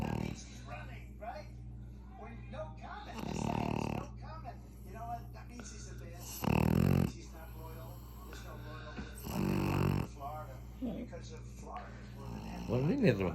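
A pug snores loudly in repeated deep, rasping bursts, each lasting about a second and spaced a few seconds apart, close up, while a person talks softly in the gaps.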